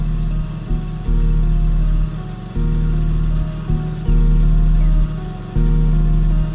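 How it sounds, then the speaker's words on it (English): Kawasaki FS600V engine on a Great Dane lawn mower running close by after servicing, its steady mid-pitched hum rising and falling in repeated surges as the throttle changes every second or so, with no voices. "Test the engine for optimal performance. It should sound smooth and ready for action."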